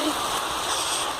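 Heavy rainwater rushing in a steady, loud broadband wash that fills the whole short stretch, close and continuous with no talk over it.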